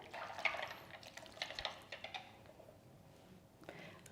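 Buttermilk, vanilla extract and eggs are mixed together in a bowl for pancake batter, giving quiet wet sloshing and light utensil clinks in uneven bursts, close but faint, without speech.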